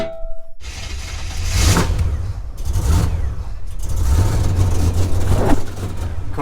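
A G-Body car's engine, freshly fueled with E85 and fitted with a supercharger, fires up and settles into a lean, uneven idle, a steady low rumble with a few louder surges, heard close with no talk.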